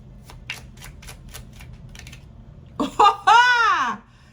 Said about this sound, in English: you see me shuffling these damn cards